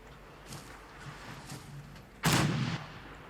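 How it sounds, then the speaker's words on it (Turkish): An explosion bursts in Fallout 4 gameplay, a loud broadband blast lasting about half a second after quieter muffled thuds of gunfire and distant fighting. "Ciddi bombalar geçiyor."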